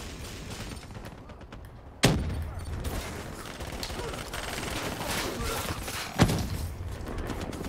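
Two loud gunshots ring out in a first-person shooter game, a few seconds apart, over a busy, noisy background of clattering movement and ambient sound.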